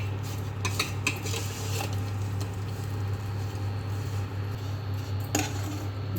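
Vermicelli roasting in ghee gets stirred in a metal pan, giving scattered light scrapes and clinks against the pan over a steady low hum, close and fairly quiet.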